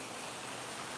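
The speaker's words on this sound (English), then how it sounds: "you guys want me to show you some rain footage?" Heavy rain falls during Hurricane Milton in Florida, a dense, even hiss of steady downpour with no voices.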